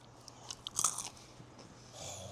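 Crunchy fried fish being bitten into, a few sharp close crunches bunched together near the middle, followed by quieter chewing, with no talking.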